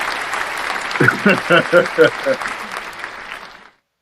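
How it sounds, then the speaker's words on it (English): Applause in a radio studio, a burst of clapping from a few people that rises for a couple of seconds, mixed with talking and laughter, then cuts off abruptly. "We gonna clap on that"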